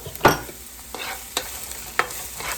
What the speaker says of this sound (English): It sounds like everything is hot and sizzling now.